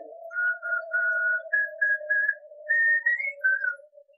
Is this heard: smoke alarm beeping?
no